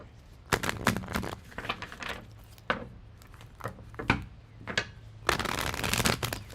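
Tarot cards being shuffled by hand in repeated bursts of riffling and slapping, close and fairly loud, with a steady low hum underneath and no talking.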